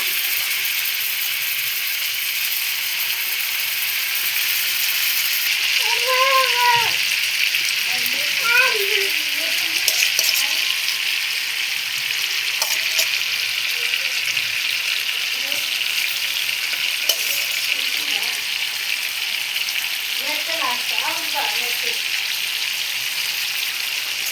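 Chicken pieces sizzle in butter on a hot tawa with a steady, loud frying hiss throughout, broken by a few faint scraping clicks as pieces are laid in.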